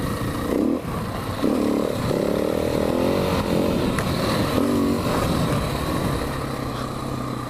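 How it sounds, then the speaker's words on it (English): Motorcycle engine droning loudly and steadily throughout a ride, with pitch rising and falling as the rider revs during a poorly executed wheelie on a rural path. "That was like a poorly executed wheelie."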